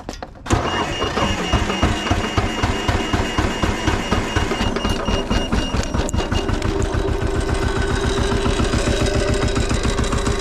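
Cold start of the diesel engine on a Cela DT80 80 ft compact tracked spider lift, a loud cranking churn that catches within a second and settles into a steady, rapidly pulsing idle close by.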